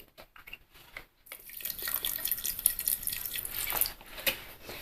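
Cold water poured into a blender jar holding lemon for a summer lemon drink, a steady splashing trickle that starts after a brief pause and runs on, with a few splashy surges near the end.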